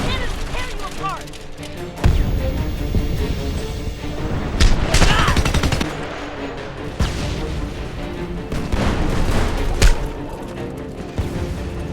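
Heavy cannon booms and bursts of gunfire crash repeatedly over a dense, chaotic battle din in the video game Homefront, loud and close, with voices shouting underneath.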